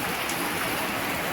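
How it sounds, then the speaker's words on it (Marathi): Steady rain falls outdoors, a continuous, even hiss of drops that holds at the same level throughout, with no voices. "बाहेर पाऊस पडतोय"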